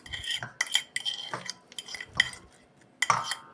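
Cookie dough mixture being stirred in a bowl, irregular clinks and scrapes of a utensil against the bowl in short bursts with pauses, close and moderately quiet.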